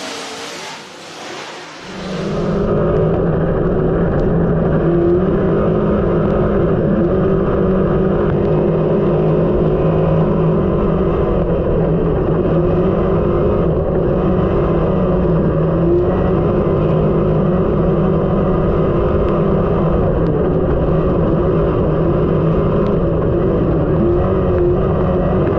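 Race cars at Whynot Motorsports Park roar back to full throttle on a green-flag restart, a dense, loud engine drone from the pack that holds steady and sustained after a brief quieter lead-in.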